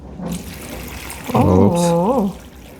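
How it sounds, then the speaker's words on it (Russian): Salt water poured into a kimchi jar, a steady splashing pour that swells and fills for about a second under a brief voice. "теперь заливаем сюда соленую воду"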